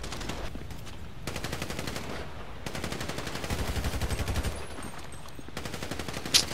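Rapid automatic gunfire rattles through a shootout in GTA 5, coming in long sustained bursts separated by brief gaps, moderately loud and steady, with no talking.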